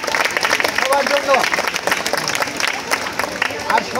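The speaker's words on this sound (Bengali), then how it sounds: "সবাই হাততালি দাও সবার জন্য" Audience clapping at a school science fair prize-giving, a steady, dense patter of many hands filling the whole stretch, with crowd murmur and talk mixed underneath.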